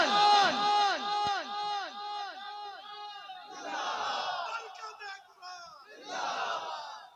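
A large gathering answering a Nara-e-Takbir chant at a religious talk on the Quran, loud massed voices shouting in unison in several surges, with a short gap between them.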